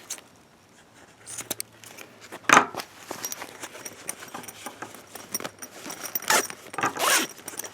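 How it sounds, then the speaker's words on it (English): A zipper on a small fabric pouch made from zipper scraps, zipped in short, rasping bursts at close range, with soft handling and rustling of fabric between the pulls. "I want to clip it so that when I try to zip it, none of this stuff gets caught in the zipper."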